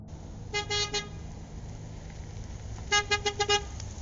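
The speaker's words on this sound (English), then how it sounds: "another car began beeping" A car horn sounds in two bursts of rapid beeps in a residential driveway, first a cluster of three honks, then a longer run of about five quick honks, loud and fairly close, with no talking.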